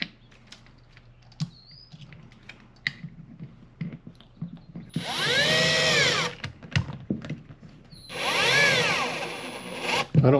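A power driver using a Milwaukee screw holder drives a screw into a wall in two loud, whirring bursts of a few seconds each, with scattered handling clicks and taps between them.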